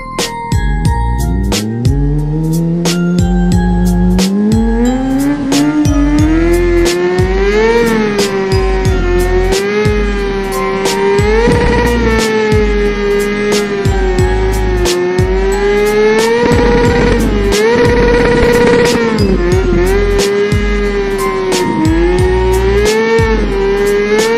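A motor engine sound effect revs and climbs in pitch, then holds a loud whining drone with repeated throttle surges, close and continuous, without talk.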